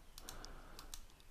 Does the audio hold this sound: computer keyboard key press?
yes